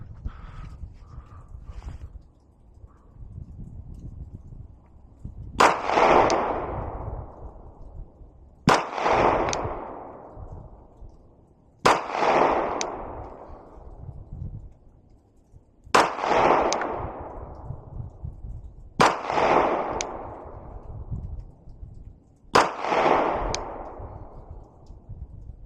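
A Glock 45 pistol fires six sharp, loud shots at a range, evenly spaced about three seconds apart, each followed by a short ringing echo.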